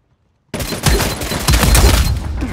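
Video game gunshots burst in after a silent start, a dense volley of loud overlapping shots and booms continuing to the end, with no speech.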